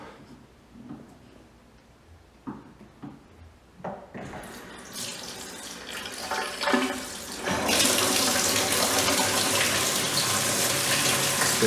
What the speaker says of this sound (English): then we have our waterfall tub.